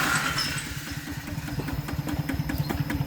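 A tractor engine running, a rough, pulsing chug at medium loudness that carries on steadily from start to end.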